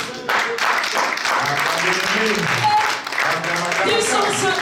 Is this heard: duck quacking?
no